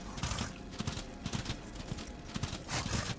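Horse hooves clip-clop in a steady, fairly close rhythm inside the video game Darksiders, the regular low thuds running for a few seconds with game ambience behind them.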